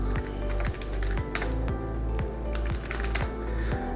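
Steady, fast typing on a computer keyboard as a WinGet command is entered at a Windows command prompt, with dense close key clatter running throughout and no talking.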